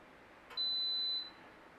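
A pressure cooker gives a single steady electronic beep, clear and close, lasting well under a second as the 22-minute cook time is set for a roast beef dinner, with quiet room hiss around it.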